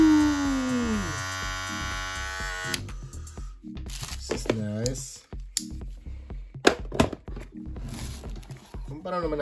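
A Kemei 2609 electric hair clipper runs at full speed, its steady high-pitched motor hum loud and close, then breaks into handling noises and clicks as a person talks over it.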